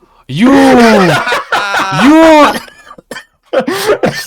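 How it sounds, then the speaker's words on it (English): Several harsh, voiced coughs in quick bursts, close and loud, followed by a shorter cough after a brief pause. "You made me cough"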